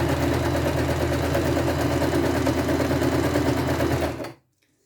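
A sewing machine runs in one continuous, even mechanical whir, loud and close, then stops abruptly near the end, leaving silence.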